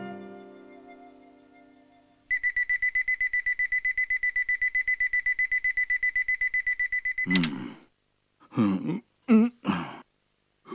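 An alarm clock rings in a Shin-chan cartoon, a steady rapid electronic beeping that starts after a quiet moment and runs loud for about five seconds, then stops, followed by groans and sighs of someone waking.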